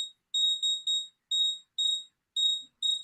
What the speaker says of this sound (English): I will apologize for all these alarms